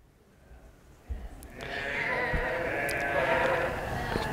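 Sheep bleat in a sustained, wavering cry that rises after a soft knock and some quieter background sound, fairly close and loud.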